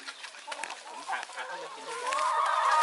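Farm chickens clucking while eating banana leaves make a close, continuous chatter of short clucks and squawks that builds slightly toward the end.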